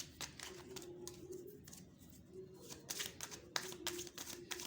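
Tarot cards shuffled and laid out by hand, giving a run of quick, close, soft taps and riffling flicks in irregular bursts over a low steady background hum.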